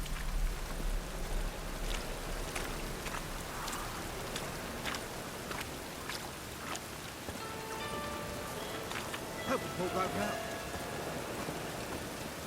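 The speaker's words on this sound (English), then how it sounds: "Looks like rain." Steady rain in the video game The Witcher 3: Wild Hunt patters on a surface, with scattered drops and faint ambient tones; soft, continuous and moderately close throughout.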